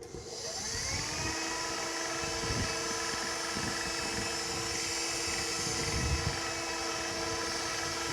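Stand mixer driving a pasta roller attachment as dough is fed through, a steady loud motor whine and hum that starts up and runs continuously with a faint rhythmic grinding underneath.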